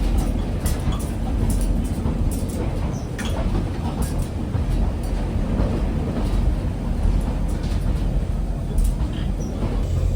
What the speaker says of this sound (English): the railway we're on right now that this Pacer is operating in